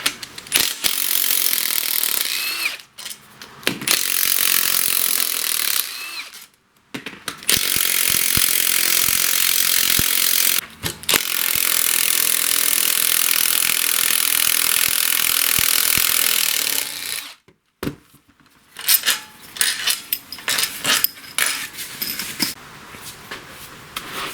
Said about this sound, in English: So I'll take the sump cover off here. There's 13mm bolts all the way around.